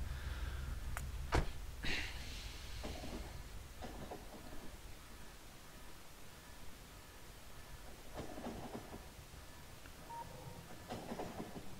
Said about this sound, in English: Drive the coal train down and back in one more time.